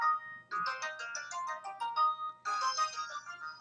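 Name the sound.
mobile phone ringtone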